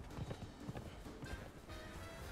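Horse hooves in the video game Conan Exiles, a quick run of soft clip-clop beats close by, fairly quiet against a dense game background.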